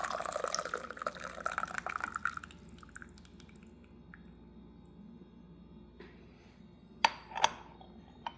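Rinse water from Bakalong raw puer tea is poured out, with a short trickling splash at first, then quiet dripping and a couple of sharp clinks near the end.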